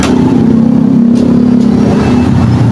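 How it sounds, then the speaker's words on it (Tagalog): Motorcycle engine running loud and close as its owner rides it, a steady throbbing mid-pitched drone that holds roughly constant throughout. "sinakyan na ng may-ari yung kanyang kabayo, este yung kanyang motor"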